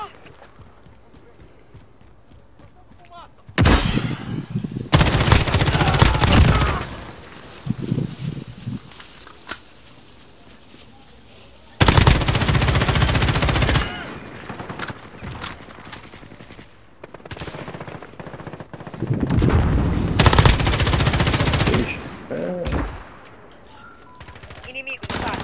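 Bursts of automatic fire from an M13 rifle in the multiplayer mode of Call of Duty: Modern Warfare come in three loud sustained volleys, with short single shots and quieter game sounds in the gaps.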